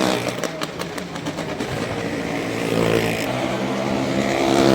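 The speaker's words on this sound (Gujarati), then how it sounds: "વાહ વાહ, બાઇક વાળાના સ્ટન્ટ તો બહુ જબરદસ્ત" Motorcycles roar around a well of death at the Madhavpur fair, engine noise rising and revving steadily louder, with crowd noise around it.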